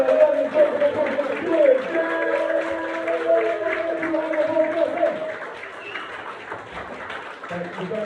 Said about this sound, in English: Right, so I want you guys to start clapping now.